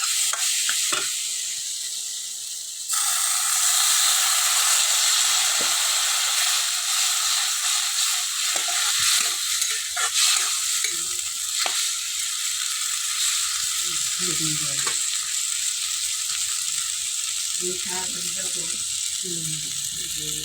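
Spices fry in a pan with a loud, steady sizzle that surges and thickens when water is poured in early on, and faint voices come through near the end.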